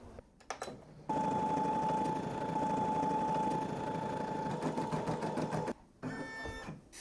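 A Brother PE545 embroidery machine stitches a design with a fast, steady mechanical whir and rapid needle chatter. It starts after a few clicks and runs evenly for several seconds before stopping briefly, then resumes.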